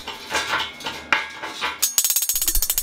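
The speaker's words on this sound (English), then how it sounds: "so I'm just chipping that off with a hammer." A hammer chips slag off arc welds on a steel computer desk frame, first in scattered scraping knocks, then a rapid run of sharp metallic taps close by, with no talking.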